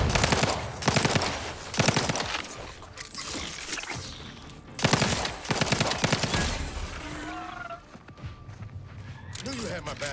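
Bursts of automatic gunfire in The Outer Worlds 2, several loud rattling volleys separated by short pauses, with a voice speaking between and under the shooting.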